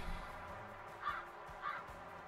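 Two short, harsh calls of a booby bird in a video game sound a moment apart over a steady, low background hum.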